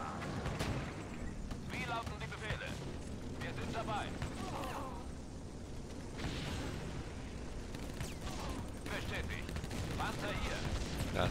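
Dense, continuous gunfire and explosions from a Blitzkrieg Anthology strategy game rumble throughout, with overlapping bursts and a voice speaking over the battle noise.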